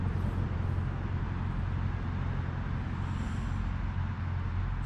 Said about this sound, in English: Sorry about the road noise, gang.